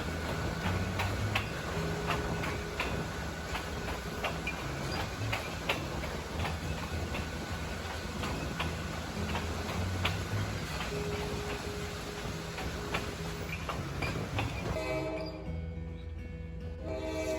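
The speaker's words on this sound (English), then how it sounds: "I was able to go out onto the vestibule and enjoy some of the sweet sounds of the rails" Steel wheels run over rail joints beneath a dinner train, captured from its open vestibule. A faint, steady rhythmic clicking rides over a constant low rumble and hiss, with a brief tonal squeal near the end. No one speaks.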